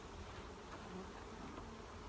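Honeybees swarm and hum around an open hive early in the morning, a steady, dense buzzing that runs without pause from start to finish, with no voices.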